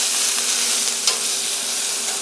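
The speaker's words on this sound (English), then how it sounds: "Listen for the sizzle." Loud, steady sizzling and crackling of picanha beef searing in butter in a hot pan, close up and continuous, with no voices.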